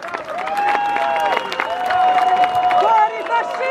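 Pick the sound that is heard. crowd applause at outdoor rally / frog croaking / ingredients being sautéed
crowd applause at outdoor rally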